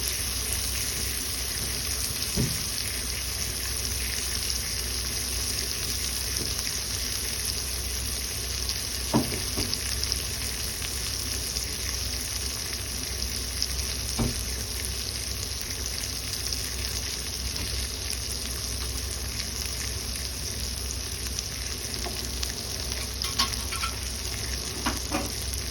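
Salmon fries in melted butter in a pan, giving a continuous, even sizzle and hiss throughout, with occasional soft clinks of utensils and no talking.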